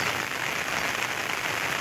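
Rain keeps falling after a sudden cloudburst over open fields, a dense, even hiss of drops on surfaces that carries on steadily without a break.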